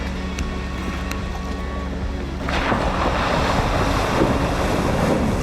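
River water pours and splashes into a Jeep Wrangler during a river crossing, a loud continuous rush of water that swells and grows heavier halfway through, with no voices.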